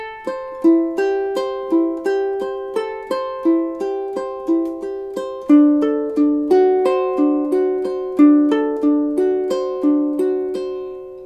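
Classical ukulele plays measures 9 and 10 of Bach's Prelude in C, steady arpeggiated plucked notes ringing clearly in an even rhythm, close and alone without voices.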